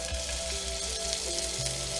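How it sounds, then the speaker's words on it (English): Scallops sear in butter in a non-stick pan, giving a steady, close, continuous frying sizzle with no talking over it. "I'm going to put the scallops in, season side down"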